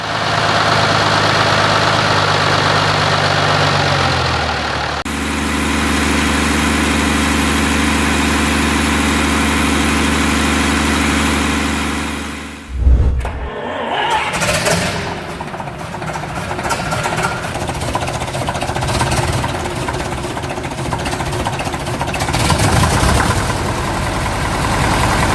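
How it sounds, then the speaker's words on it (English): A Gardner 6LW diesel engine idles with a steady low rumble, then a sharp clunk cuts it off and a rougher, uneven mechanical running follows, close and loud. "But hand-cranking this high-compression diesel was a bone-crushing ordeal"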